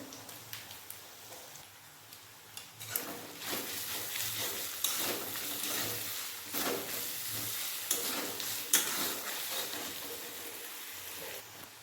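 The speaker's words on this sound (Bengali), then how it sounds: "পেঁয়াজ আদা রসুন ভালোভাবে বেজে নিয়েছি" Onion, ginger and garlic fry in a pan with a steady, dense sizzle, with intermittent scraping stirs and small spatters throughout, loud and close, with no voice.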